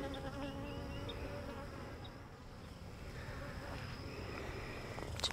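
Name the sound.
honey bees buzzing around a marked queen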